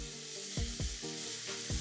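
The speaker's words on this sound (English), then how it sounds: "Just stir fry that for a few seconds" Onions, garlic and atarodo peppers stir-frying in hot oil, a steady close sizzle broken by four or five low scraping stirs in an uneven rhythm, with no talking.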